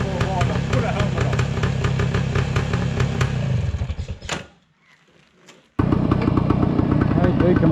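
A 1972 Yamaha 360 RT2 Enduro motorcycle engine idles loud and steady with a clattery mid-range throb, cuts out for about a second and a half, then resumes at the same level.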